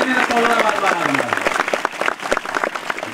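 Scattered, uneven hand claps from an audience at a Marathi kirtan, sharp individual claps breaking through while a voice speaks over them.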